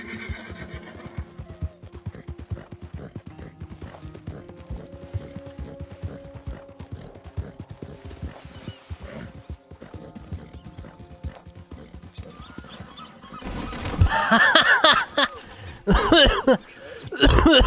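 A horse in the Red Dead Redemption 2 game whinnies and its hooves clop, set among mechanical clicks and game effects, with louder bursts toward the end.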